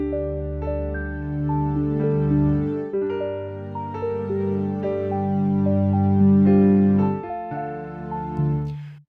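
Soft grand piano chords layered with a warm synth pad and a gently cycling arpeggio, playing a steady, sustained progression at moderate volume with no voices.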